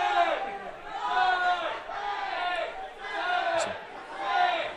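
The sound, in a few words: crowd shouting fake calls at an ultimate frisbee game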